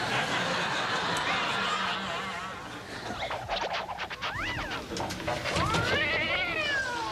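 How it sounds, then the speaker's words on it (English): A cat meows and caterwauls in a few rising and falling cries over steady background noise, with faint talk and chuckling around it. "That cat is so stupid."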